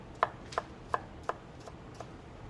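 A knife slices a daikon radish into half moons on a cutting board: four crisp, evenly spaced chops close up, then a fainter fifth cut, with no talking.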